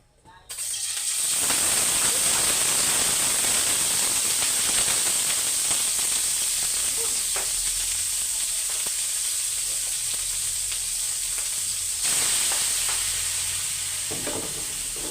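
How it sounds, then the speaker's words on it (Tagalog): Pork sautés in a little cooking oil in a pan for a Filipino dish, giving a loud, continuous close sizzle and hiss with occasional stirring scrapes throughout. "Lagyan natin na konti yung mantika."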